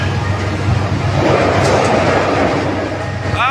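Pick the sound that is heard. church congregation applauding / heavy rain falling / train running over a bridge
train running over a bridge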